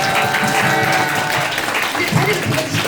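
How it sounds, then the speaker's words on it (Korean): Loud welcoming applause from an audience greeting new members at a gathering, a dense continuous patter of clapping mixed with voices. "우리 새 식구들 다 같이 환영의 박수 한번 부탁드릴게요"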